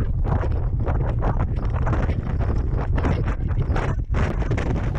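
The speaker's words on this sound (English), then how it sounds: "the snow's eased off, but I tell you what, it's blooming windy" Strong wind batters the microphone on a Torridon mountain summit in Scotland after snowfall, a loud continuous roar with gusty buffeting throughout and no other sounds breaking through.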